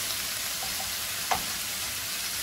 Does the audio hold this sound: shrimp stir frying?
yes